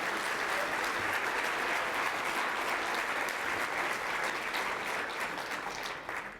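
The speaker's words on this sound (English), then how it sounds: "Round of applause." Sustained audience applause at a commercial real estate competition night, a thick, even roar of many hands clapping together that holds steady throughout and tapers off at the end.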